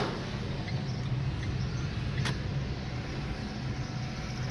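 A car driving through a small town in the interior of Goiás, Brazil, giving a steady broadband road and engine rumble that stays even and close throughout, with no talking.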